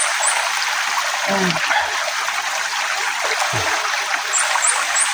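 Steady rushing water of a flowing river fills the scene, with a couple of brief low thumps and faint birdlike chirps near the end.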